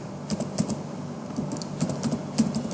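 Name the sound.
typing code on a computer keyboard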